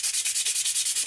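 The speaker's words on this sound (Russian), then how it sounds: "шлифуем с вами" Rhythmic strokes of sandpaper across a homemade wooden spatula for frying meat and vegetables, a steady back-and-forth rasp repeating about ten times, close and fairly loud with no talking.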